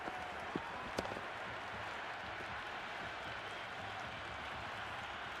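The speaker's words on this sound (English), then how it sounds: "It's evident and ever so audible that the crowd is at near bursting point with excitement at today's play." A stadium crowd in the cricket video game Cricket 26 roars in a steady, dense wash of cheering that holds evenly throughout, with a couple of sharp knocks early on.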